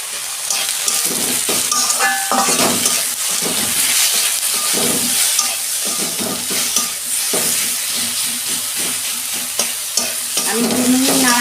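Spices with salt and turmeric fry in a pan, a loud close sizzle and hiss with repeated scraping stir strokes throughout, no talking.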